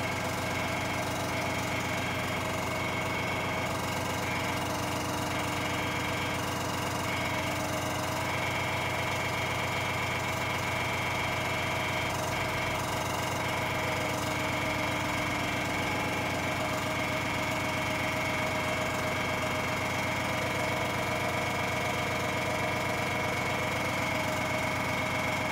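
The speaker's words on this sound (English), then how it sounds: "let the compressor finish off and then we'll give it a minute or so" An air compressor runs and builds pressure in a workshop, a loud, continuous droning hum that holds steady throughout with no talking.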